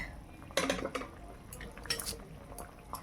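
Cooked sour mixed-vegetable curry poured from a pot, with soft liquid splashes, drips and a few metallic clinks of the pot and utensil, quiet and close, in a series of short bursts.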